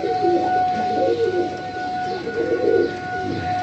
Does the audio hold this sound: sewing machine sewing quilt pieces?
no